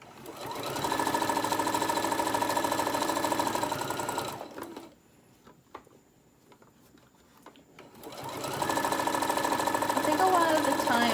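A sewing machine runs in steady bursts while stitching a fabric tote bag, with a loud continuous whir for a few seconds, a short quiet pause and then another run. Speech is also heard.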